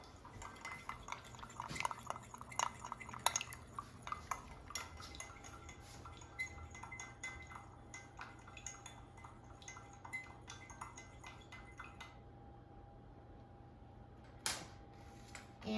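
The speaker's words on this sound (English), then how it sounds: "And now I'll mix it until combined." Black pepper and spring roll bowl ingredients are stirred together in a bowl, with faint scraping, clinking of utensils against the dish and soft light taps, irregular and quiet, with no speech.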